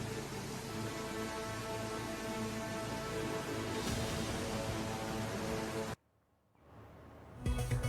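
Heavy rain pours during a cloudburst in Mandi, Himachal Pradesh, a dense, steady roar of hissing downpour that cuts off abruptly near the end before faint noise returns.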